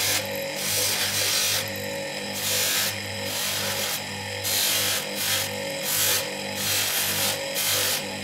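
A copper and brass ring is polished in rhythmic rubbing strokes, each lasting about a second and repeating steadily over a constant mechanical hum, close up and with no talking.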